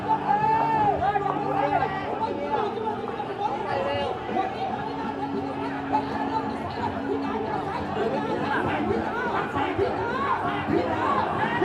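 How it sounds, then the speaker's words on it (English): A cheering section of spectators at a traditional long boat race in Bangkok, a dense crowd of many voices chattering and shouting together, steady and lively throughout with no single voice standing out. "Here's the cheering section."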